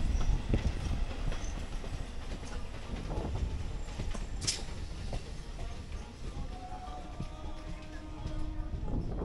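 Sealdah-Canning local train rolling along the rails, a steady rumble of wheels and carriage with faint rhythmic clatter and a brief sharp squeal partway through, continuous and fairly close.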